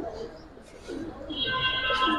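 Giribaz pigeons cooing at close range, soft throaty coos that build toward the end, with faint background noise.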